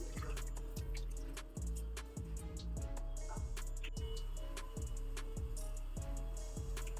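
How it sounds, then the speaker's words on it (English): Salted grated lauki (bottle gourd) being squeezed by hand, releasing water in a steady series of soft, regular squishing pulses with light dripping, close and quiet, with no voices. "Let us squeeze out all the water, otherwise the paratha will be moist and sticky."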